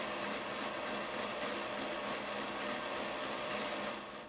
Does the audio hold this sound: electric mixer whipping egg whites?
yes